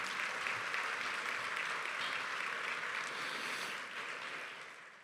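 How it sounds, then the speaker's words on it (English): Audience applause at an awards and induction ceremony honoring women, a dense sustained clapping that fills the room and begins to taper slightly toward the end. "So let's give them another round of applause here."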